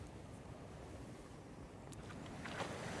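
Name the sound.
ocean waves at a beach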